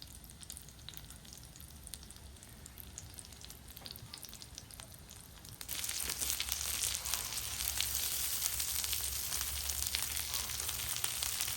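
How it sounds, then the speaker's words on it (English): Chicken shallow frying in oil over medium heat, a dense steady crackling sizzle that jumps noticeably louder partway through and then holds, close and continuous with no talk. "And we're just gonna simply shallow fry to about 165 degrees."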